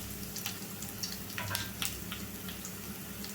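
Mustard seeds and spices for a mango dal tempering sizzle and crackle in hot oil, a steady close frying hiss with scattered sharp pops, no talk.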